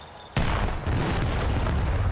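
Grenade explosions in a Call of Duty match, a sudden heavy boom followed by sustained rumbling blasts with a second impact shortly after, loud and close.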